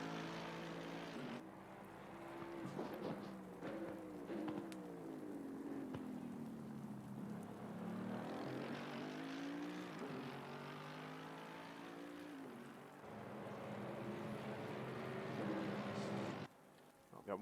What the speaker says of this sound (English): You can hear the traction control cutting in and out.